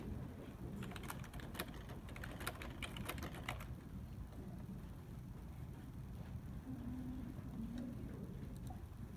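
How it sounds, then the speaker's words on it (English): Fingers tap keys for a math calculation in Desmos, a cluster of quick light clicks over a steady murmur of room noise, then the tapping stops and only the background continues. "let's type that into Desmos and see if it's going to work"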